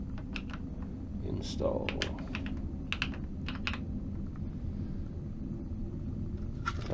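Bursts of computer keyboard keystrokes come in quick, irregular clusters, close and crisp, over a steady low hum, with a brief spoken word in the middle.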